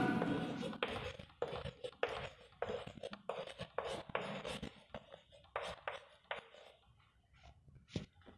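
Words being written on a classroom board, a series of quick scratchy strokes and taps in uneven bursts, close and fairly faint, with no talking over them.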